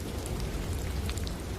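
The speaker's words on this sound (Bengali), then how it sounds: "চারিদিকে তখন ঝড় আর বৃষ্টি।" Rain and storm effect for a narrated tale: a steady, soft wash of rainfall with low rumbling beneath, continuous and without voices.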